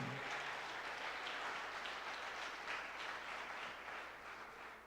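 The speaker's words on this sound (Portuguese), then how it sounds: "Você pode dar uma salva de palmas ao Senhor" A church congregation applauds during a worship service, a dense, steady wash of clapping from many hands that fades slightly toward the end, with no talk.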